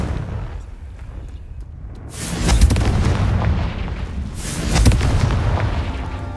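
A Confringo fire spell bursts in the Hogwarts Legacy game, two loud, booming blasts about two seconds apart that swell and roll away over a low ambient rumble.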